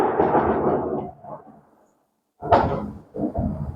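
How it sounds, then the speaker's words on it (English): Thunder from a thunderstorm booms in two heavy rumbling bursts separated by a short silence, loud and close, with no talk. "The thunder."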